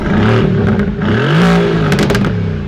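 A 2020 Mercedes-AMG GT R engine blips and revs up on a paddle-shift downshift, a throaty rising growl close by with some mechanical clatter.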